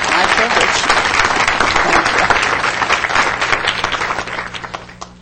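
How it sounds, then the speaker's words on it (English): Loud, full applause at a city council meeting honoring a crossing guard program volunteer, many hands clapping densely before gradually tapering off toward the close. "One more round of applause for Helen"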